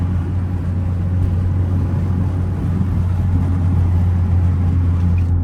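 A catless Toyota Camry drives through New York City traffic, its exhaust and engine giving a steady, deep droning rumble that stays loud and constant throughout with no talking.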